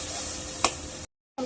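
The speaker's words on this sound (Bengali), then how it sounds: "পেঁয়াজটাকে ভেজে নিব।" Onion fries in oil with a brief steady sizzle and one sharp click of a utensil, then a moment of silence before the frying returns.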